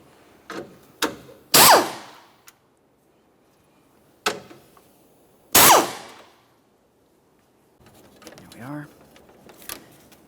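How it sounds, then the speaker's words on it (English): Two 10mm-headed mounting bolts come off a 1994-1997 Honda Accord near the hood release, giving sharp metallic clicks and clanks in scattered bursts separated by quiet gaps, close and fairly loud. "continue on with removing your two 10mm headed mounting bolts from along the top area here."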